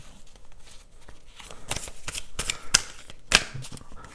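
Tarot cards are shuffled and drawn by hand, a series of crisp riffling and slapping bursts that build and grow louder, close-up and alone.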